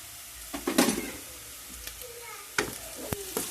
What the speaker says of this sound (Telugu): చూడండి, లైట్గా వేగినాయి కదా.